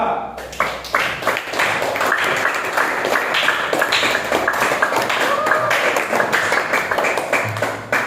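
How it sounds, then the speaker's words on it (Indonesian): A classroom bursts into loud, sustained applause for a student group, with dense clapping carrying through about eight seconds and voices mixed in. "Kita berikan aplaus untuk kelompok 2."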